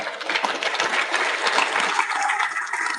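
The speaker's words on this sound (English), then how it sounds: "Another round of applause." An audience at an informal awards ceremony for the Best Ranger military competition applauds, a steady, thick wash of clapping that carries on without a break.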